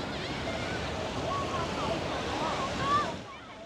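Sea waves wash onto the shore in Xiamen, a continuous rushing surf mixed with wind buffeting the microphone, swelling slightly before easing off.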